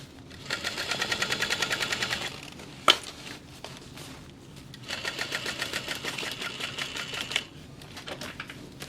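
A sewing machine top stitches a bag in two quick rhythmic bursts of rapid needle clatter, separated by a sharp click and a pause, close and clear.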